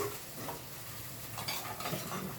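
Ginger paste frying in a pan for a home chicken curry gives a faint, steady sizzle, broken by soft scrapes of stirring.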